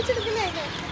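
Chicks cheep in a steady chorus of high, thin peeps close by, with clucking fowl mixed in.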